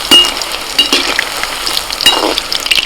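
Hot oil crackles steadily around Chicken 65 pieces being deep-fried, close and continuous, with a few sharper spits and light stirring knocks.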